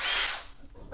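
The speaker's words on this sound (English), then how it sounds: "Let's see if we can drill that through." A power drill bores through a part for bolts in one short, loud whining burst that trails off quickly.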